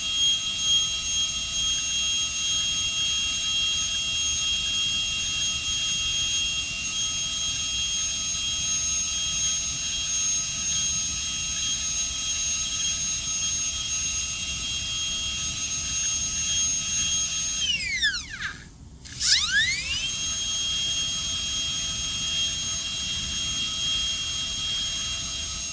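A high-speed dental drill reduces a premolar cusp in an amalgam cavity preparation, whining with a steady high pitch throughout and a brief dip and swoop in pitch as it loads against the tooth near the end.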